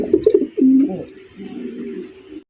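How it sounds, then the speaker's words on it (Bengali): Indian Bombay pigeons at a pigeon market coo in a close, loud, low throaty burst followed by a softer, steady murmuring coo that runs on for a couple of seconds. "2000 টাকা কিন্তু দর্শক বন্ধুরা ইন্ডিয়ান বোম্বাই কবুতর পাইতেছেন"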